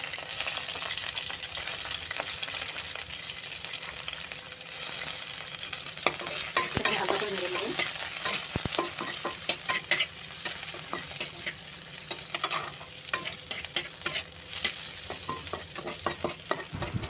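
Chopped onion and garlic fry in a small amount of oil for chicken momo soup. A steady, moderate sizzle runs throughout with scattered utensil clicks and taps, and no voices.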